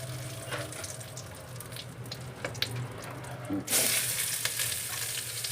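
Curry leaves and onion fry in a pan, a low steady sizzle with occasional stirring clicks, then a louder rush of hissing that swells and stays close for the last seconds.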